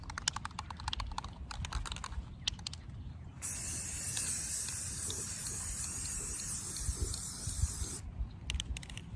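A spray can lays a first coat of paint on a thrift store piece, one long continuous hissing spray in the middle, framed by quick rapid clicks and taps before and after.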